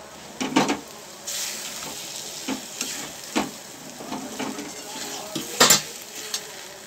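Two eggs beaten with salt fry in a pan while being stirred. A soft, continuous sizzle runs throughout, broken by repeated scraping and clinking of the utensil against the pan, with sharper knocks near the end.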